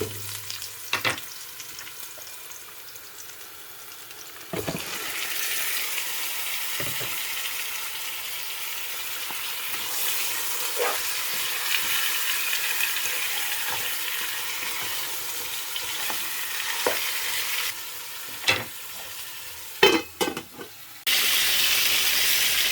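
Beef pieces fry in oil with onions already browned in a pan, a steady broadband sizzle throughout with occasional sharp clicks from a utensil and a brief louder burst near the end, no talking.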